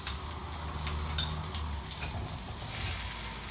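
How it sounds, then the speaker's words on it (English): Onions frying for paneer bhurji sizzle steadily in a pan while being stirred, with a low hiss throughout and a few faint clinks of the spoon against the metal. "Just stir it once."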